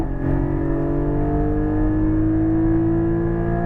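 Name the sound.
Porsche 718 Cayman GT4 accelerating and upshifting on track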